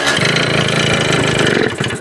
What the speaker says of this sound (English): That thing sounded nice though when it was revving.